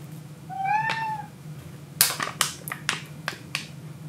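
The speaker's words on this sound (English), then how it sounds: "the cat's still trying to get my attention to open the door" An indoor cat meows once, loud and drawn out, while waiting for a door to be opened, then a run of sharp, evenly spaced clicks follows nearby with no voices.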